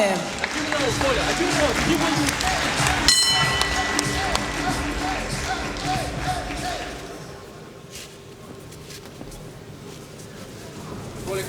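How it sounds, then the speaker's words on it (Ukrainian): A crowd applauds and cheers at a professional boxing match. The clapping is loud and dense at first, then thins out and fades after several seconds, with voices speaking throughout. "прошу підтримати бійців оплесками"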